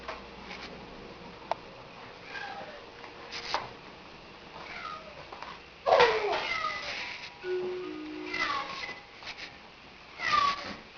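A new house cat, unsettled in an unfamiliar home, gives several drawn-out, complaining meows spaced across a few seconds, close and fairly clear over faint household ticks and rustles.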